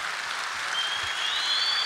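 A crowd applauds at a Turkish esports fan meet-and-greet, a steady even wash of clapping that holds at a moderate level throughout.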